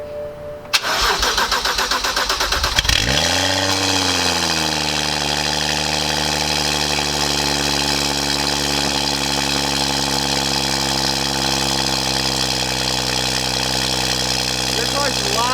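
BMW 135i with an N55 engine and catless downpipes cranks, fires up with a loud rev, then settles into a steady, deep, rumbling idle that continues close by for over ten seconds.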